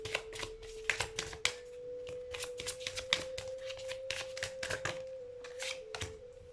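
Tarot cards are shuffled by hand in a rapid run of crisp riffling bursts, close and continuous over a faint steady hum.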